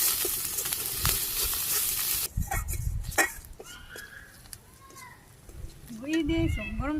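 Ginger, garlic and onion paste with salt, turmeric and dried chili powder frying in a pan. A loud, hissing sizzle fills the first two seconds, then quieter frying and stirring continue under talk.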